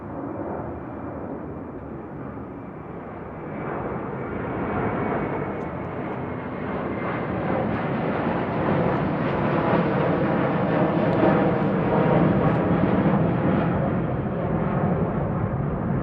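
An Airbus A330 airliner departs Heathrow with a loud, broad jet engine roar that swells and holds steady for the whole stretch, rumbling and continuous with no voices.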